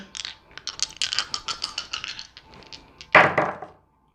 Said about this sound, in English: But I'm going to roll the Astro Die Sweep.